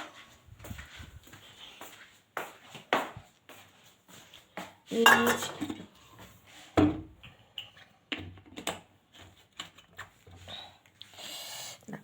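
Pots and metal utensils clank and clink in a home kitchen while milk is heated, with scattered sharp knocks and scrapes among quieter handling noises, some louder impacts midway.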